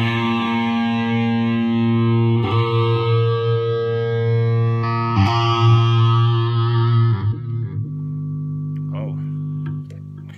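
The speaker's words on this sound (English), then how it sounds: "There's the digital distortion for you guys." An electric guitar plays through a Boss GP-8 digital distortion effect, giving loud, buzzy sustained chords that ring and change every couple of seconds before fading out near the end.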